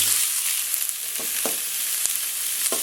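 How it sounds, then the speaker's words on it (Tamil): Chopped onions fry in hot oil in a pan with a steady close sizzle, a few soft clicks and taps of a utensil sounding over the continuous hiss. "எண்ணெய் நல்லா சூடாயிடுச்சு இப்போ நம்ம வெங்காயம் கட் பண்ணி வச்சுருக்கிற வெங்காயத்தை சேர்த்துக்கலாம்"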